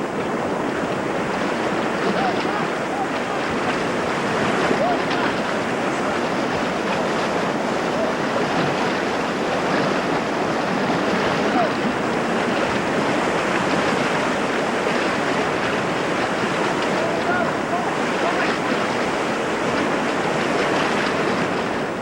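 The powerful current of Tohican Creek rushes in a steady, dense roar of churning water, loud and unbroken throughout with no voices.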